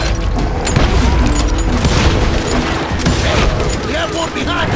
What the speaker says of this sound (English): I heard the shots and I knew I had to move fast.